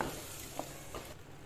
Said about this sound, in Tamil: 1 நிமிஷம் இந்த எண்ணெயில் இதை வதக்கிக்கலாம்.